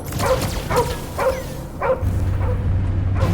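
Cosmo the dog from the video game Guardians of the Galaxy barks about five times in a loud, quick, close series, then the barking gives way to a low steady hum.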